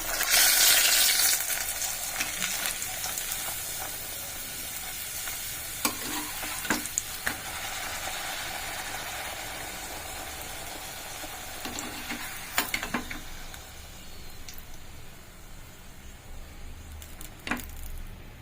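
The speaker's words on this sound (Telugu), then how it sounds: "ఇప్పుడు నూనె ఆయిల్ వేడైందండి పూరి వేస్తున్నాను" Puri frying in hot oil, a steady close sizzle with occasional crackles and soft stirring clicks throughout, loud at first and settling to a constant bubbling hiss, with no talking.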